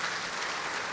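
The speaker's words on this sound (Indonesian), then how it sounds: "Beri tepuk tangan yang meriah buat Tuhan." Steady clapping from a church congregation, dense and continuous, heard alone for a brief moment.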